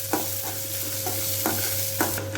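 Chopped garlic and large onion sautéing in oil, a constant close sizzle broken by regular stirring scrapes about twice a second, over a low steady hum.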